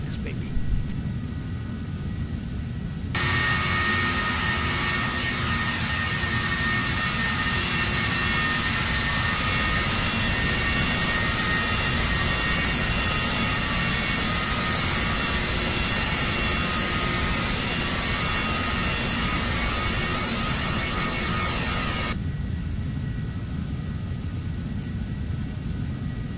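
A Phenom 300 business jet in the Prepar3D flight simulator gives a loud, steady jet engine roar for about twenty seconds during its landing, over a quieter cabin hum, with radio-style air traffic talk throughout.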